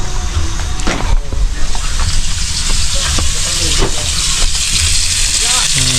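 Food fries in a hot pan with a loud, steady hiss and sizzle up close, while voices talk faintly underneath.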